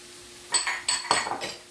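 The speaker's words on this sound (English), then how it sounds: "Once we give that a little stir" Metal utensil scraping and clinking against a pan while garlic is stirred in a home kitchen, a few short bursts of scraping and tapping, close and moderately loud with no talking.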